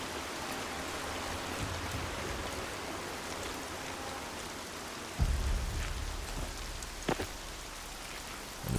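Steady rain pours in the Horizon Zero Dawn game world, a dense, even hiss that runs throughout, broken by a couple of brief louder thumps near the end.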